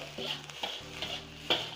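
Nasi goreng (Indonesian fried rice) is stir-fried in a smoking-hot pan, a steady close sizzle broken by several sharp scrapes and clanks of the spatula against the pan, with no talking.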